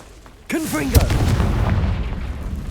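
A Confringo fire spell explodes in the video game Hogwarts Legacy, a sudden loud boom with a sharp blast and a rumbling tail that decays over a couple of seconds, preceded by a brief swooping cast sound.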